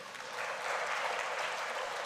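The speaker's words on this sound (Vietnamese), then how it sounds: "Vỗ tay." A church congregation claps during a homily, a soft, distant, steady patter of many hands lasting a couple of seconds.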